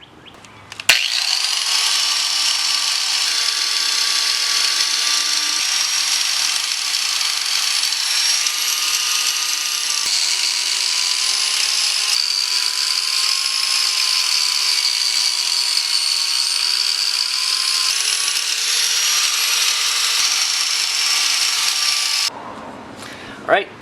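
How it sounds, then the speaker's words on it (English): A power wire wheel scrubs the AMC 20 differential cover on a Jeep CJ7, a continuous close, loud whirring grind with a steady high rasp that holds for about twenty seconds before cutting off. "Now I need to go around this thing with a good wire wheel and brush that off"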